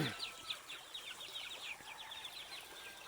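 Farm chickens being fed, with clucking hens and a rooster giving a steady run of close, high calls and a brief wing flap at the start, over faint outdoor background noise.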